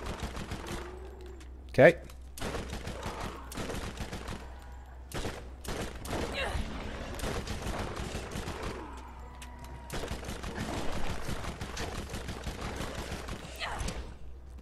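SMG gunfire in the Borderlands video game, rapid bursts of submachine gun shots with one sharp louder blast early on, while a voice talks briefly.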